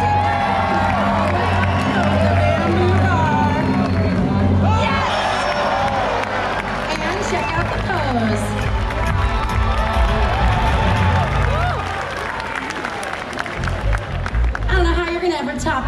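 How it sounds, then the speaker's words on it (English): Crowd at a SeaWorld San Diego sea lion show cheering and shouting, a loud continuous roar of many voices with whoops and children's shrieks, mixed with music and a presenter talking. "You guys, cheer him on."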